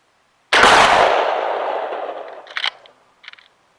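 A single 12 gauge shotgun slug fires outdoors in one loud, sharp blast with a long rolling echo, followed by a few faint clicks and rustles.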